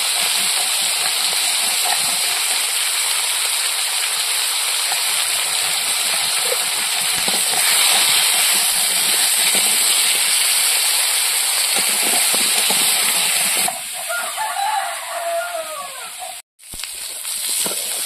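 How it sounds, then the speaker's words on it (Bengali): Potatoes fry in oil with turmeric and salt, a loud, continuous hissing sizzle that holds steady for a long stretch before briefly dipping near the end. "হলুদ লবণ দিয়ে আলুটা ভেজে নেব।"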